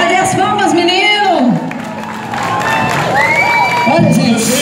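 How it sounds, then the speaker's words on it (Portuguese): Audience at a music compilation event cheering and applauding, with shouts, whoops and clapping blending into a loud, dense crowd roar, voices calling out over it throughout. "Cadê as palmas, menino?"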